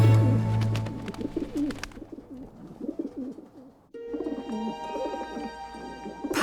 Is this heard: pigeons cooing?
yes